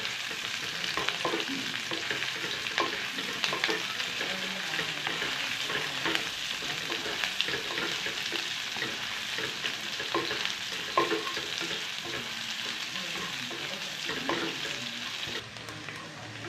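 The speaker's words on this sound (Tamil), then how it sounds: "நல்லா வெங்காயம் வதங்கட்டும்" Steady oil sizzle of onions frying in a pan, with occasional stirring scrapes and clicks throughout, no voices.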